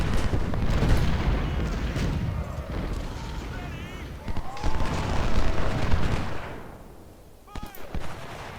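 Booming artillery and gunfire from a Union-side Civil War battle at Gaines' Mill in Ultimate General: Civil War, with howitzers and cannon shots thudding near and far in bursts under steady talk.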